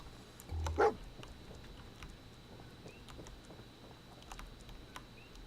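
A single short bark from Dogmeat, the canine companion in Fallout 4, stands out near the start over a low game ambience, followed by quiet background sound.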